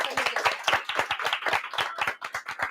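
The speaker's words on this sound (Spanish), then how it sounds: "Un aplauso para el invitado." An audience at La Cafebrería applauds a guest: brisk, close, fairly dense hand clapping from a small crowd that carries on steadily and thins slightly at the end.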